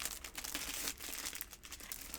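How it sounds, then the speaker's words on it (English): Comic book packaging, Savage Sword of Conan issues, crinkles and tears as scissors cut it open, a steady close rustle of plastic with brief snips and no talking. "I'm going to have to use a scissors to open these"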